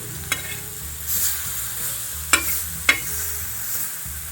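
Pineapple slices roast on a hot tava for a sweet and spicy dish, giving a soft, steady sizzle broken by a few sharp clinks and scrapes of a spatula.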